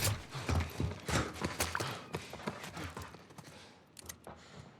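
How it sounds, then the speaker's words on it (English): Footsteps from The Last of Us video game, a run of quick, clopping steps near the listener, loud at first and then fading over a few seconds, with no talk. "I hear footsteps."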